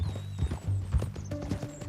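Horse hooves clip-clop in an unevenly spaced run of thuds in the video game Red Dead Redemption 2, close and moderately loud, with a low droning background under them.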